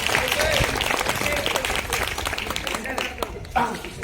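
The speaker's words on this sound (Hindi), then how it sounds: "मैं चाहूंगा कि ताली में सब लोग ताली बजा के बच्चों की हौसला अफजाई करें।" Applause for children at an Independence Day function rises loudly from the crowd and then thins out, with a speaking voice heard over the clapping.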